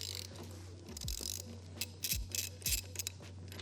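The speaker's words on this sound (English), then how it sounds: "We're going to take off the wheel nuts." Wheel nuts being loosened and removed from a Harley-Davidson Fatboy motorcycle wheel during a tyre change, giving several close metallic ratcheting clicks and clanks over a steady low hum.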